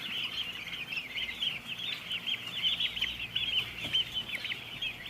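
A dense flock of young poultry chicks and bronze turkey poults peeps and clucks without pause, a steady, close, high chirping chorus throughout with no talking.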